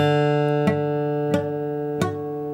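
Three sharp strums of a guitar chord with muted strings at a steady pace, each with a percussive muted attack, over a sustained ringing tone.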